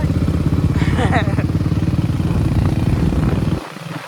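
A Royal Enfield Bullet motorcycle rides along with a steady, thumping single-cylinder engine beat close by, running continuously before cutting off near the end, with a voice briefly heard over it.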